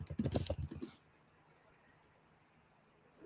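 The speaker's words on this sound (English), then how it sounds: "I wonder if the mic is picking up my keyboard clicks." Computer keyboard clicks come in a quick, loud flurry of taps for about a second during a game playtest session, then give way to quiet room hiss.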